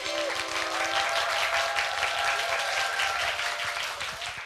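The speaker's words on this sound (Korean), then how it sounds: "지난주보다는 훨씬 더 큰 박수를 맞아주시는데요" Audience applause at a public business-trends lecture on Christmas Eve, a steady full burst of clapping from a large crowd welcoming the speaker, with a few faint voices calling out beneath it.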